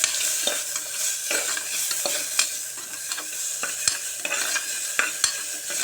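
Tomatoes sautéing in a pan for a moong dal kuzhambu, a steady loud sizzle with repeated scraping stirs and clicks throughout, no voices.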